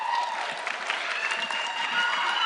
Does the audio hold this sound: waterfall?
no